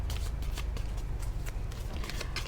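Oracle cards shuffled by hand in a steady run of soft, papery riffles and flutters, close and fairly loud over a low background rumble, with no speech.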